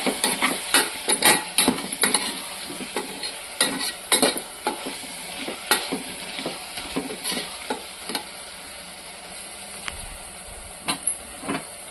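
Ginger-garlic paste and coriander powder stirred in a hot pan for a pilaf, with repeated scraping strokes over a steady sizzling fry, close and fairly loud, with no talk.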